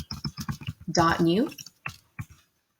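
Quick bursts of clicky keystrokes on a computer keyboard while using a Chrome browser, a short run of taps followed by a few isolated clicks, with a voice speaking briefly in the middle.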